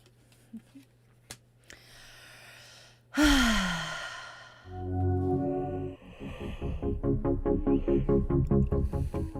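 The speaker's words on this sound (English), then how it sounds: "Apparently I got the yawns." A long, drawn-out yawn stretches into a sighing exhale, followed by rhythmic, pulsing breathy sounds, close to the microphone.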